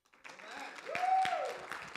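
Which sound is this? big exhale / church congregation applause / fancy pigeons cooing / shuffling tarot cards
church congregation applause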